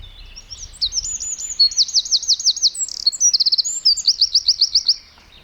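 Wild garden birds singing at feeders, a bright run of rapid trilled phrases repeated again and again, clear and fairly close over a quiet background, with no voices.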